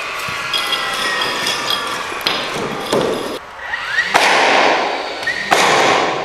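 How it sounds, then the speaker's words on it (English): A series of sharp hammer blows, knocks and cracking thuds at irregular intervals, loud and close, as material is broken off plywood in a barndominium being prepared for spray foam. "get a hammer, and break it all off"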